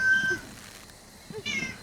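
A cat meows twice, a drawn-out cry at the start and another after a short pause, fairly close and clear with no talking.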